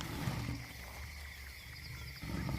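A lion roaring in the African wild, low rumbling calls at a middle distance, faint against a steady background hum of wind and insects.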